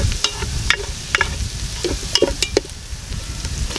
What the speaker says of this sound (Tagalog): Magigisa na po tayo ng ating bawang.